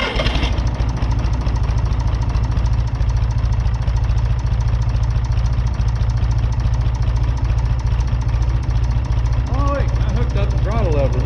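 A small engine runs steadily on an electric fuel pump with a low, even idling drone and rhythmic knocking. It stays close and constant, with a voice heard briefly near the end.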